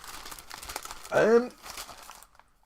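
A newspaper rustles and crinkles near the microphone with scattered papery crackles, swelling into one louder crumpling burst midway, with a voice heard briefly in the background.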